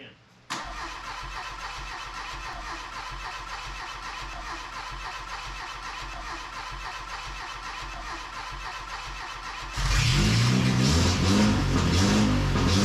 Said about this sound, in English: So we've got the Volkswagen running.